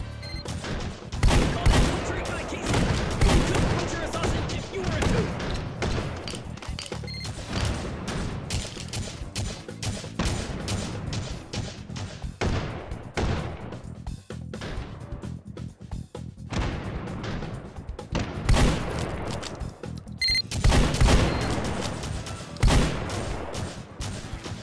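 Dense volleys of automatic gunfire and heavy booms fill a firefight in the VR shooter H3VR, loud and nearly continuous with brief pauses between clusters of shots.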